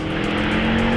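A 2016 Volkswagen Golf R Mk7 with a manual gearbox accelerates hard out of a corner, its engine droning loud and steady from inside the cabin, with no speech over it.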